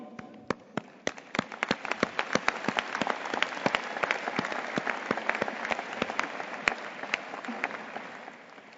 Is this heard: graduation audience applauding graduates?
yes